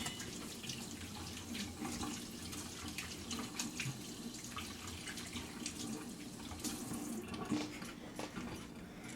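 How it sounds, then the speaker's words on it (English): Tap water runs steadily into a kitchen sink while hands are rinsed clean of cheesecake mixture, a constant soft splashing stream heard close and fairly quiet with no talk. "I'm going to wash this stuff off my hands"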